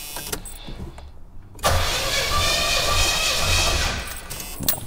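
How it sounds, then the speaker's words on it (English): A Pontiac engine cranks over at wide-open throttle during a compression test, the starter churning loudly and evenly for about three seconds after a brief quiet lead-in. "all I'm going to do is go wide open throttle, turn the engine over"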